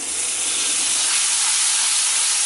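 Water splashed into hot frying masala for Amritsari pindi chole, giving a loud, continuous broadband sizzle and hiss of steam with no voices.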